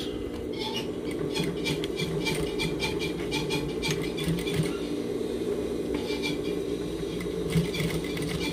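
Sewing machine stitching a replacement zipper into a pair of jeans, a steady mechanical whir with rapid needle ticks running throughout at close range, with no talking.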